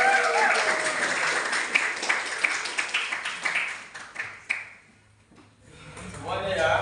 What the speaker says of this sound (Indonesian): Tepuk tangan untuk kelompok Markisa.